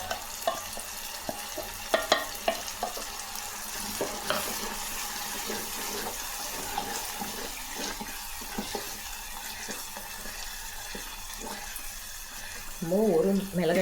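Ground tomato sizzles in a hot pan over fried chana dal and urad dal for a spicy tomato chutney, a steady hiss broken by a few stirring knocks, with a brighter burst near the end.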